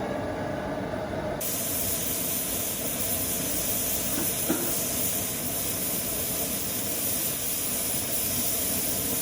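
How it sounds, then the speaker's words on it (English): A pressure canner full of potatoes vents steam in a steady, loud hiss that runs unbroken throughout, with a brief quieter moment at the start before the full roar of the steam. "now that it's steaming good, we'll let it set for 10 minutes and release the steam"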